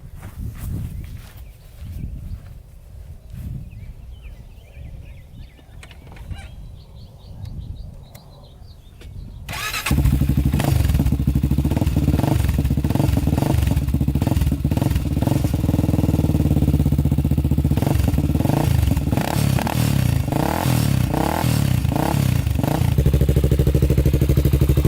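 Honda 400ex quad engine starts about ten seconds in and then idles loudly and steadily while warming up, after a quieter stretch of handling and clatter.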